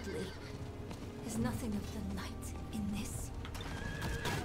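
A horse whinnies in Diablo IV, giving a couple of rising neighs with hoof clops beneath, set against dense game music and ambience.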